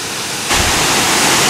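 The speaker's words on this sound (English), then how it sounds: "This is higher up on the waterfall." A rushing waterfall in the mountains of Kurdistan, a steady broadband roar close by that swells louder partway through and then holds, with no voices over it.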